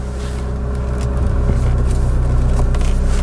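A car pulling out during a driving exam route in Eemnes, a steady close engine rumble with road noise that swells slightly as it moves off, no talk.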